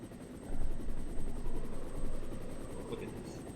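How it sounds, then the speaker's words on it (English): Helicopter rotor in the Resident Evil game, a steady low rumble with faint rhythmic chopping that swells slightly and holds at moderate level throughout. "it's Brad in the helicopter"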